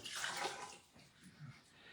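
Water pours into a Hydro Jug, a soft splashing trickle that swells briefly and then tapers, faint and close.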